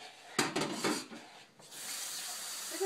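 Tap water runs into a container, measured out for making homemade lye soap: a close splashing pour that stops briefly, then gives way to a steadier, softer stream of running water.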